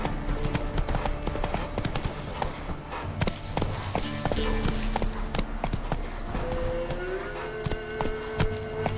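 Roach the horse gallops in The Witcher 3, the hooves beating a fast, steady clip-clop that runs continuously under game ambience and music tones.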